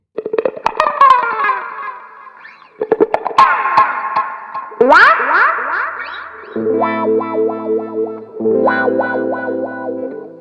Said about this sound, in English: And that's how I use the wah-wah.